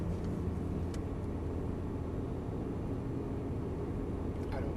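A Ferrari 458 Italia holds third gear at a constant speed out of the pit exit at Nogaro circuit, its engine a steady, dense low rumble heard from inside the car.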